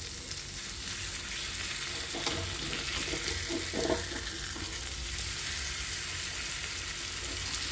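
Masala fish fries in a hot pan and gets flipped: a loud, steady sizzle runs throughout, with a few soft bumps and scrapes in the middle as pieces are turned, and no talking.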